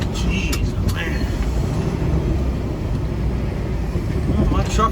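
A pickup truck rolls slowly through a parking lot full of big potholes with a constant low rumble of engine and tires from inside the cab, a few faint clicks and rattles, and no speech.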